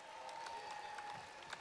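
Audience applause for the England shearing team at the Golden Shears 2014 World Blade Shearing Teams Final, a steady wash of clapping from a crowd, fairly faint and distant.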